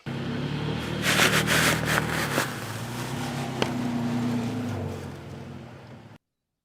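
Toyota Tacoma in two-wheel drive idling and straining as it climbs onto Maxtrax recovery boards, a low engine rumble with gritty scraping and a couple of knocks before the engine note drops and cuts off.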